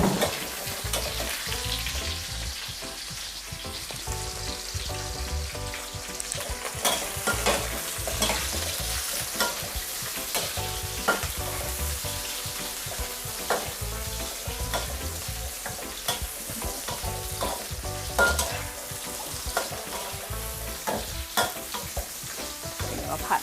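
Garlic and shrimp stir-fried in a pan for a Thai stir-fry of napa cabbage and tofu, with a steady loud sizzle and frequent scraping, stirring clatter running throughout and no talking.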